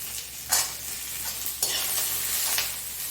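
Eight to ten garlic cloves and cashews sizzle in hot oil in a pan, a steady crackling hiss broken by three sharper bursts of stirring or frying, close and alone with no talking.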